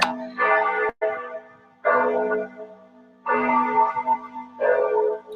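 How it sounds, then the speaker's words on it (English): Church bells ringing in Florence before a Saturday service, a series of resonant tolls in clustered bursts with sustained humming overtones, fairly close and clear with no talk. "The people are called by the bells."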